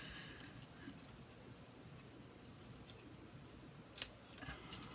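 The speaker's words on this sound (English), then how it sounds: "take your paper snips, and then you're going to go from the corner to that little dot." Paper snips cut cardstock diagonally from a corner for a handmade card. A few soft, faint snips and one sharper click sound close by, with no talk.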